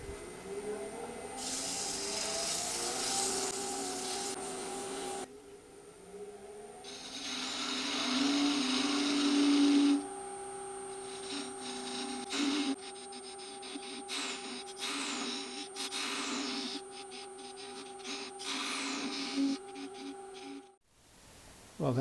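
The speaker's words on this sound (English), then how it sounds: "I'm going to reverse the lathe so it's easier to sand this in and smooth it out." Continuous whirring and hissing from a wooden rocket being sanded smooth while it spins on a lathe running in reverse, with the pitch and grit shifting as the paper moves, near and steady.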